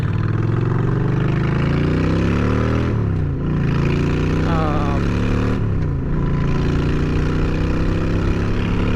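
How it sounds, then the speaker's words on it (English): A motorcycle with Vance & Hines Short Shots exhaust revs up close, the engine pitch climbing steadily then dropping twice through gear changes, a loud throaty note running continuously across the whole stretch. "Man, I love that exhaust."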